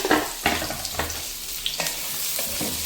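Onions fry in a pan for fish pulusu, a loud close sizzle broken by repeated sharp stirring scrapes and clatters of the spoon against the pan, with no talking.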